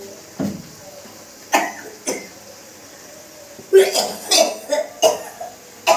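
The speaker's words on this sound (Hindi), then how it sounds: "आंटी को खांसी आ गई" Several sharp coughs burst out close by in a kitchen where chili is being cooked, a few spaced apart at first, then a rapid cluster of harsh coughs near the end.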